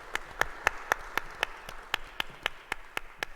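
Sparse clapping from a small science café audience welcoming a speaker, roughly a dozen distinct claps in a slow, irregular rhythm, moderately close and fairly quiet, with no voices.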